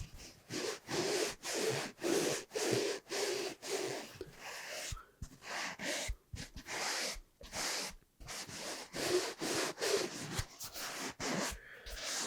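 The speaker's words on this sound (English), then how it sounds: "That scratching fabric, sandpaper type feel." Fingertips scratching across a piece of fabric and foam in rhythmic bursts, a close, dry rasping like sandpaper that repeats steadily with brief pauses between strokes, with no talking.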